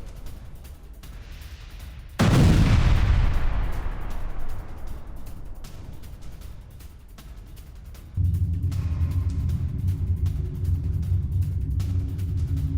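Ukrainian drone strike on Russian tanks near Lyman: a loud explosive blast erupts early and rumbles away, followed later by a steady heavy low rumble of burning or vehicle noise, with no voices.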